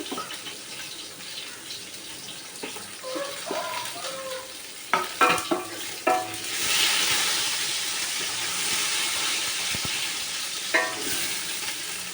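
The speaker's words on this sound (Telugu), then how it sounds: "ఆయిల్ కానీ తెచ్చుకున్నాం తర్వాత ఇందులోకి ఆనియన్స్ పచ్చిమిర్చి" Onions and green chillies go into hot oil with a few sharp knocks and clatters, then a loud, steady sizzle and hiss of frying builds up close and carries on with light stirring.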